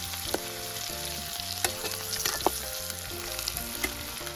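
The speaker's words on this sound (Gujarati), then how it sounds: "આ બધો મસાલો મિક્સ કરી નાખવાનો છે આપણે ફ્રાય ટાણે." Whole potatoes frying in hot oil with turmeric and mixed spices for a desi-style Gujarati potato curry, giving a steady loud sizzle with occasional sharper pops and stirring scrapes, no voices.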